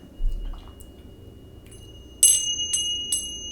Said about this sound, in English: we need these chimes back